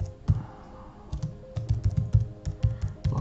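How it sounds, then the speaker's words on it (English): Typing on a computer keyboard while entering an insurance name into a company contractor-management portal, bursts of close, crisp key clicks in an irregular rhythm with short pauses between, no talk. "we type in the insurance name"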